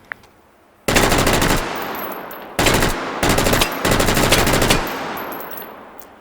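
Bullpup rifle firing in the shooting game Hot Dogs, Horseshoes and Hand Grenades, sounding as four loud, close bursts of rapid automatic fire separated by short pauses, with no talk over it.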